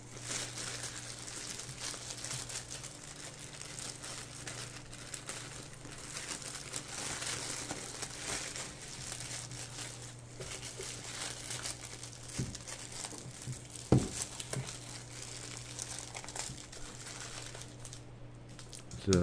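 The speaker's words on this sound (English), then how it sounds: "Let's go ahead and get the battery out of the plastic here." Thin plastic wrapping crinkles and rustles as a 12.8 V 20 Ah LiFePO4 battery is pulled free, steady close-up crumpling over a low hum, with one sharper crackle near the end.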